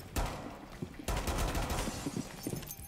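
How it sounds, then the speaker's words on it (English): Rapid pistol shots firing at windows in Rainbow Six Siege, a quick loud crack followed after a short gap by a dense, close string of shots with shattering texture, no voices. "I'm going to use my pistol and just like shoot the windows up and down"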